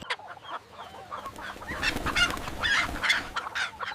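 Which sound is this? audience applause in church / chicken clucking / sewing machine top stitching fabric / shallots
chicken clucking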